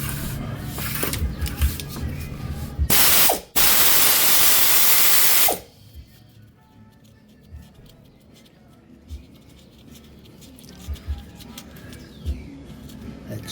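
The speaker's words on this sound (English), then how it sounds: "We're going to remove the differential cover. We're going to use the wrench." A wrench loosens the half-inch bolts on the differential cover of a 65 Chevelle, with rubbing, ratcheting clicks and scraping up close, interrupted by a loud burst of broadband noise for a couple of seconds, and some talking.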